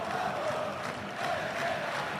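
A stadium crowd at the Espanyol vs Barcelona derby in the Copa del Rey roars as one continuous, distant wash of voices.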